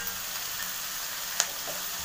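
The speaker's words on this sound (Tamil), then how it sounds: "இஞ்சி பூண்டு பேஸ்ட், இது நல்லா வதங்குது." Ginger garlic paste and onions sautéing in a pan give a steady, soft sizzle throughout, with one brief clink partway through; no one speaks.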